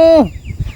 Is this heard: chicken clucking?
yes